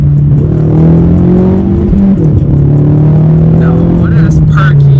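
A modified 2018 Ford EcoBoost Mustang with a manual gearbox pulls hard from inside the cabin, its engine drone rising in pitch, dipping briefly at a shift, then climbing again, loud and close, with people talking over it.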